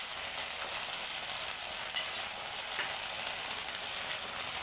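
Chili sauce and soy sauce frying in a pan for Gobi Manchurian, giving a steady, close hiss and sizzle with faint scraping underneath and no talking.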